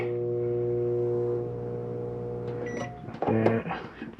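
A microwave oven in a 2017 Keystone Passport 2400BH travel trailer hums steadily for a few seconds, then the hum cuts off and someone speaks briefly over a few clicks.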